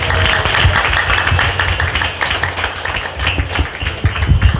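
Lively applause from the audience at a book concert and publication celebration as a speaker is welcomed, with dense, sharp claps sustained at full strength throughout.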